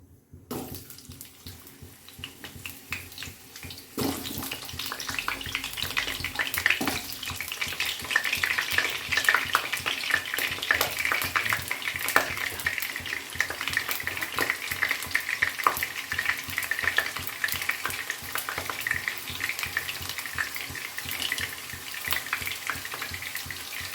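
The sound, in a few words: potatoes frying in mustard oil in a wok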